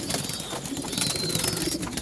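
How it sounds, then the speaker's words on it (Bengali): Loft pigeons and their young chicks calling together, a dense, steady murmur of low cooing with thin higher cheeps layered through it over two seconds. "বাচ্চাগুলো ডাকাডাকি শুরু করে দিয়েছে"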